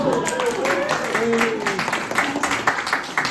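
A comedy-show audience claps and cheers for a few seconds, a fairly close wash of applause with the comedian's voice talking over it.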